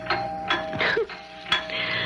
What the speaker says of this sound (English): Why does the back doorbell always ring when you're at the front?